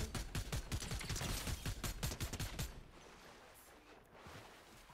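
Gunfire in the video game Fortnite: a rapid, closely spaced string of shots for about three seconds, then a quieter tail of fainter game noise.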